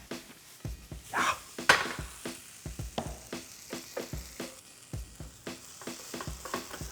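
Onions and hash browns fry in a pan for a simple hash, with black pepper added, giving a steady close sizzle broken by frequent rhythmic scrapes and clatters of stirring.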